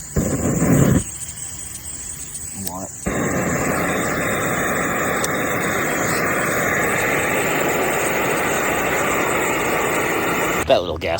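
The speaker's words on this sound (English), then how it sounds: "That little gas stove makes so much noise" A small camping gas stove burner at a campground roars as a steady, loud broadband hiss that holds for most of the stretch, briefly interrupted near the start, with a voice speaking now and then over it.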